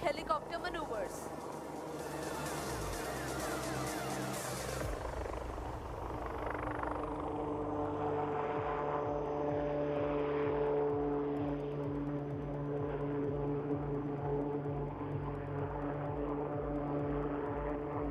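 Helicopter at the Aero India 2021 air show flying low-speed maneuvers, including a quick stop, sideways flight and tail-up rearward flight. Its steady rotor and engine drone holds throughout, under a loud announcer's voice.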